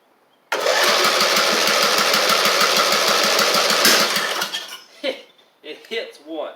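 A Briggs engine on an Eagle Star Noma riding mower with a knocking fault cranks on its starter in a fast, steady rhythmic churn for about four seconds without catching. Someone speaks briefly once it stops.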